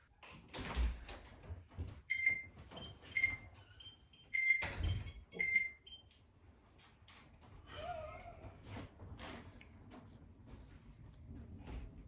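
A house door opens and shuts as a man walks in, giving a few sharp knocks and thumps early on and a louder clatter around the middle, then a quieter room.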